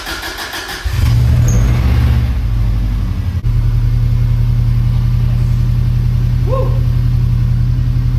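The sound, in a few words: 1998 Subaru STI engine starting and idling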